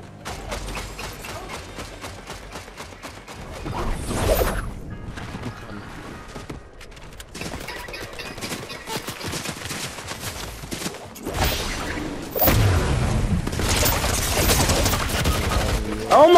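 In the video game Fortnite, a deployed turret fires in long rattling bursts of rapid gunfire with mechanical clatter and sharp louder blasts, while players talk over the shooting.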